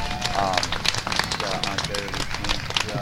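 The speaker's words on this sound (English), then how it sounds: "let's give Phil Habeck, our MC, another round of applause." Scattered clapping from a crowd at an Ontario vs Quebec gold medal game, irregular and fairly faint, mixed with general room noise.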